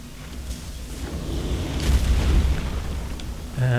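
A bomb explodes in the video game Dark Souls, a deep rumbling boom that swells to a peak midway and then fades, followed by a brief tonal game sound.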